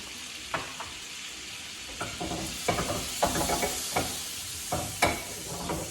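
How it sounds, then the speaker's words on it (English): Butter sizzles in a very hot pan, a steady frying hiss broken by repeated scraping and stirring knocks close by, no voices. "My butter is going and my pan is really, really hot."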